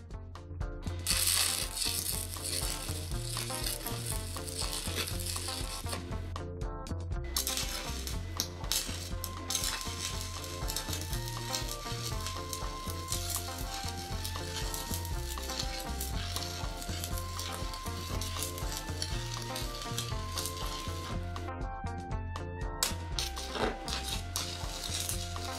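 Stick arc welding with 1/8 inch (3.2 mm) 7018 rods on a DIY reef anchor: a continuous loud crackling, sputtering buzz that runs unbroken except for short pauses between beads, with no talking.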